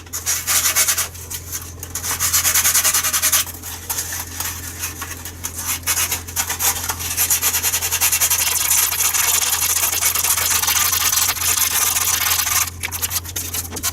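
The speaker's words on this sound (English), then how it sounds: "it's a matter of preference how much you want to sand it and how profiled you want it to look" Sandpaper worked over a SpecWing model aircraft wing to shape its profile, giving a continuous close, loud rasping rub in long sustained strokes with a few brief breaks between passes.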